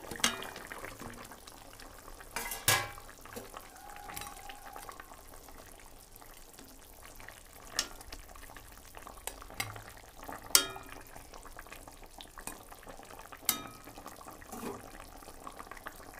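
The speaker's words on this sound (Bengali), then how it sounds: "এবারে মাছ ভাজাগুলো দিয়ে দিচ্ছি" Fried fish pieces going into a simmering fish curry with cumin powder, a low bubbling hiss broken by a few sharp clinks and scrapes of a spoon stirring in the pot.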